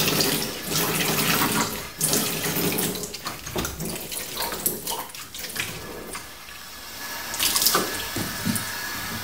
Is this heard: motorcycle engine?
no